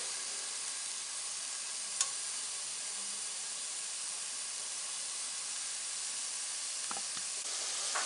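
Carrots sauté in a pan for a yogurt carrot salad, giving a soft, even sizzle and hiss throughout. A faint utensil tap comes near the start and a few light stirring scrapes come near the end, with no talking.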